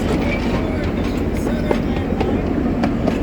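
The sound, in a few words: freight train with Conrail flat cars passing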